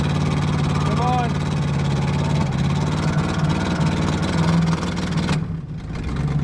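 A junkyard 1966 Ford Mustang V8 running after decades of sitting, a loud steady engine drone with low rumble close up, easing off near the end.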